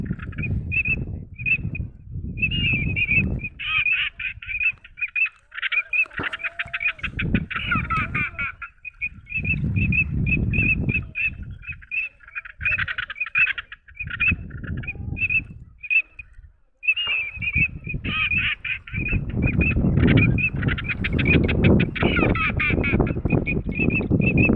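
Wild birds call repeatedly during an outdoor bird hunt, loud honking cries in bursts over a rough, rumbling outdoor background, with a voice heard briefly at times.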